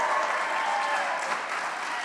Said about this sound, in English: I'm expecting some energy, some clapping, some yelling out in this crowd.